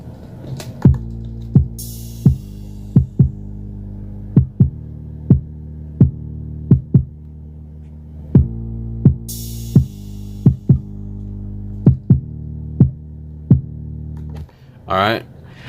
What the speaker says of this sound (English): I have this sound, so it's like a pitched 808 bass line, and I have that layered with the kick.